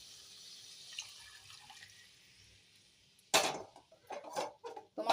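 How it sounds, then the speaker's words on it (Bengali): Hot water is poured into a tomato curry as it cooks, arriving as a sudden splashing gush after a quiet stretch and followed by a few shorter bursts of pouring and sloshing. "এবারে গরম জলটা দিয়ে দেব।"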